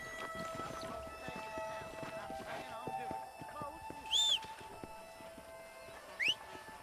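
A horse in Red Dead Redemption on Xbox 360 clip-clops in quick, even hoofbeats, with two brief high whinny-like calls over casual talk from a player.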